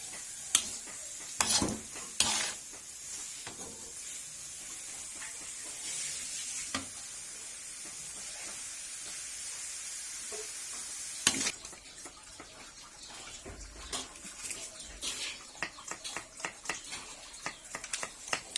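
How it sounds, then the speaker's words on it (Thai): Continuous hissing sizzle of food frying in a hot wok with oil, lemongrass and kaffir lime leaves in a restaurant kitchen, with metal utensils scraping and clanking against the pan in bursts. "เชฟใหญ่กำลังผัดอยู่ นะครับ"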